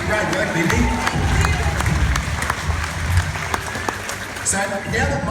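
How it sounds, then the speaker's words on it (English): An audience claps during a crocodile feeding show at a zoo's outdoor arena, steady crowd applause running throughout while a presenter talks over it. "And a round of applause for Bindi too."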